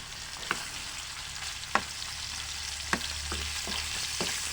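Ginger and onion fry in a hot pan, sizzling steadily with a handful of sharp clacks from stirring at irregular intervals, with no voices.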